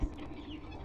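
A brief cluck from a chicken in a horror video game, with a low rumbling background, one short sound at the start followed by steady noise.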